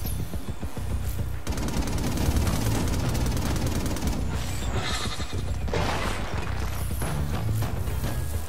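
A gun turret in the game Infamous Second Son fires in rapid, sustained bursts, loud and close, with crashing impacts and mechanical clatter between volleys.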